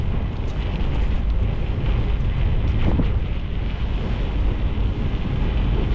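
Strong wind buffeting a microphone, a continuous loud rumbling roar with no pauses.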